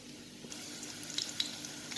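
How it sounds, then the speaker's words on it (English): Sardines frying in a pan with potatoes, a soft steady sizzle with faint crackles and a few small pops, close and fairly quiet, with no one speaking. "You can just fry it like this."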